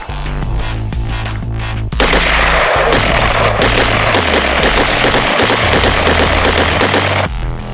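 Rapid bursts of gunfire from pistols and carbines at a shooting class crackle over a steady low droning tone, loud and close, with dense clusters of shots through most of the stretch.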